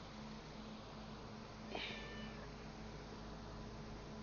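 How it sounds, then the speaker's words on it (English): A house cat gives a single short meow, heard faintly against a steady background hum. "This is the cat. She wanted to be in the video."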